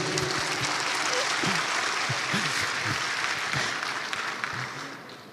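Audience applause fills a large hall at an Islamic business lecture, a dense, steady clatter of clapping throughout that tapers slightly near the end, with a voice faintly audible over it.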